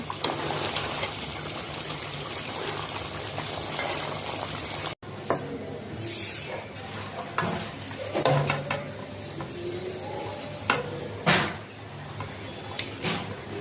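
Koi fish in mustard sauce fries in hot oil, a steady sizzle for the first five seconds, then quieter bubbling with scattered clinks of a utensil against the pan.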